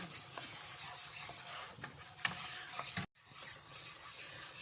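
Steady sizzling of two tablespoons of flour frying in oil in a pan, with occasional stirring scrapes and a brief dropout partway through.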